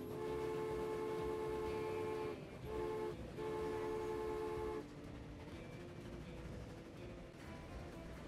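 A train runs on rails in the video game Transport Fever, a sustained rumble with tonal whining hum that dips twice briefly before settling to a steadier, quieter roll.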